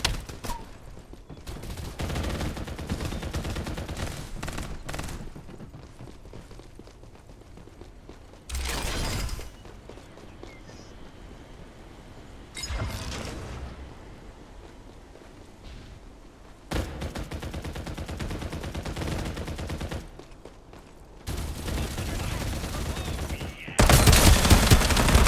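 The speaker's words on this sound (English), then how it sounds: "Yeah. Gunfire. And shot." Gunfire in the battle royale game Farlight 84, heavy bursts of automatic shots in several separate volleys broken by quieter gaps, loud and close, ending in an intense final burst.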